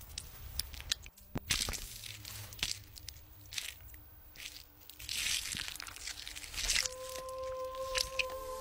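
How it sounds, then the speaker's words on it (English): A beetle crunched and squelched as a wild chameleon eats it, heard as brief crackly, wet bursts among other noises and some tonal sound effects, close and moderately loud. "Nice sound effects at the end there, and a nice squelching, crunchy beetle."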